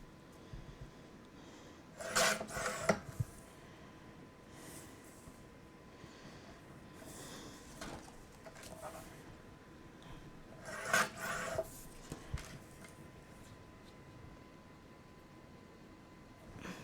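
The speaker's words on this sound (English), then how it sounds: "I'm going to take these over to my trimmer and turn them into rectangles of the appropriate size." A paper trimmer slices cardstock pieces into rectangles, giving two short scraping cuts several seconds apart, close and quiet, with soft handling rustles between them.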